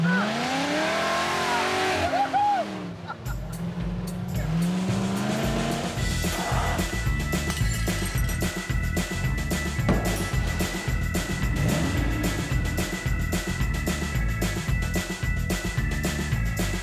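A supercharged 1975 Jeep CJ5 roars close by, its engine revving hard with sustained loud rumble, tire squeal and gear changes throughout.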